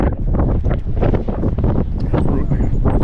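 Strong wind buffets the microphone at an airfield beside a tied-down small plane, in a steady, loud roar with gusty rumbling throughout.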